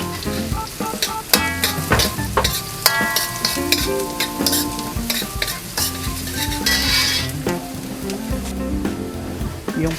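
Garlic sautéing in hot oil in a pan for pinakbet, a loud continuous sizzle broken by frequent sharp spatula scrapes and clinks against the pan, close up with no voices.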